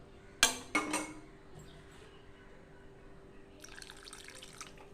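Water is poured into a cooking pot for a vegetarian rice and pointed gourd dish, giving two short splashes up close followed by a faint trickle and quiet kitchen noise.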